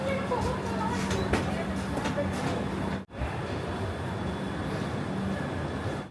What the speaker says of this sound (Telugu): ట్రైన్ అయితే స్టార్ట్ అయిందిగా కరెక్ట్ టైంకు